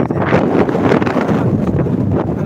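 Strong storm wind blowing on the Bay of Bengal shore at Mirsarai, Chattogram, a steady loud roar buffeting the microphone throughout with no pauses.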